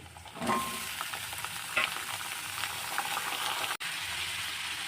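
Potatoes, coconut, pumpkin and poppy seeds fry in hot oil tempered with black cumin, giving a steady close sizzle with a few stirring scrapes and one sharp click, no voices.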